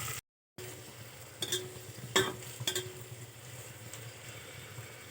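Tomatoes being stirred into a pan of frying mustard seeds, cumin and onion for a lentil rice dish, with a low steady sizzle and a few sharp spoon clinks against the pan.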